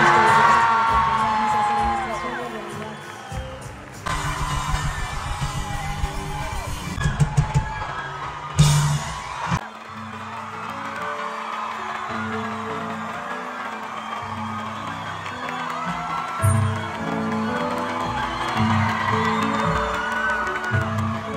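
A large crowd at a live event cheers loudly, with whoops and yells rising in bursts over a continuous roar of voices.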